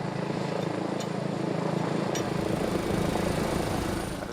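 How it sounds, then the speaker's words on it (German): A helicopter flies over a high-voltage power line construction site, its steady rotor and engine drone loud and continuous throughout with no voices. "Einsatz für den Helikopter."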